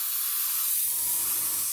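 A steady, loud airbrush hiss sprays light grey XF19 paint continuously over a model jet's wing, with a low background rumble joining partway through.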